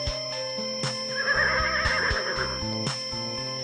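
A horse whinnies loudly and close by, a long shaky neigh with a couple of hoof knocks before and after it, heard alone without speech.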